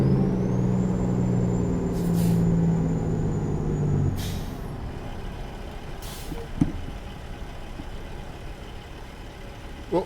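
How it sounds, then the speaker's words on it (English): A truck's air brakes in American Truck Simulator give a few sharp hissing bursts over a steady low engine rumble, followed by a couple of faint clunks. "Oh, brakes."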